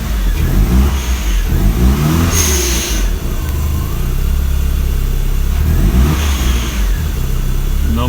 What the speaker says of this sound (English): Let me rev it a couple times.